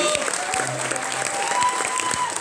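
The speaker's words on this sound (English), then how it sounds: "give it a clap" Audience applause after a live show, a dense clatter of clapping from a crowd, steady and fairly loud across the whole stretch, with a brief low tone and faint crowd noise underneath.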